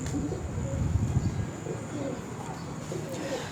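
Chinese pigeons cooing on a rooftop loft in Multan, soft low coos rising and falling under a steady murmur of background noise and faint voices.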